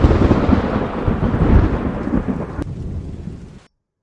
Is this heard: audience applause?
no